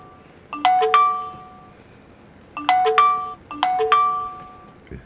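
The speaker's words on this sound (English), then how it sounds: "Sorry about the phone going beep beep bing." A phone ringtone goes off in three short bursts of bright stacked chiming beeps, loud and close, separated by pauses during a Fortnite Save the World session.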